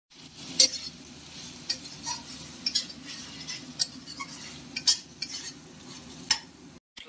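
Fried garlic is stirred into a cooking spice paste in a pan for a duck egg curry, with a utensil scraping and clinking against the metal at a steady rhythm over a soft sizzle.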